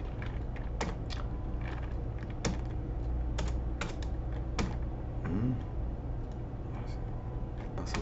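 Typing on a computer keyboard during Unity game programming in C#, a steady run of close, crisp key clicks with irregular louder strokes over a constant low background hum, and a brief voice sound midway.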